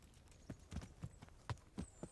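A horse's hooves clip-clop in Kingdom Come Deliverance, about seven evenly spaced hoof strikes at a walking pace, fairly quiet and close, with no talk.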